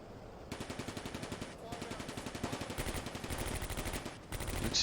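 Suppression fire in the Combat Mission war game, set in the Stalingrad suburbs, comes as rapid machine-gun bursts. The rattling volleys repeat and overlap at steady rhythm, pause briefly, then resume louder near the end.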